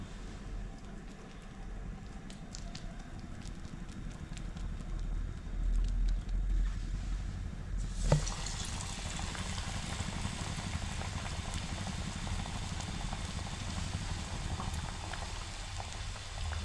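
Chana dal fritter balls dropped into half-heated oil, a steady bubbling hiss that jumps to a louder, brighter sizzle at the drop and stays constant, close by with no talking.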